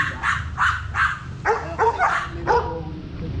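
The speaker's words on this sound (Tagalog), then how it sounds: "Belgian Malinois ni Sir Jun." A Belgian Malinois barks repeatedly at close range at a K9 training club, about seven sharp barks in quick succession with a slightly whiny edge.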